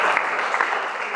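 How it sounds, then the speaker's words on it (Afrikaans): An audience claps steadily for a newly elected school head girl, a dense, even patter of many hands with no pause. "Geef vir haar 'n klap."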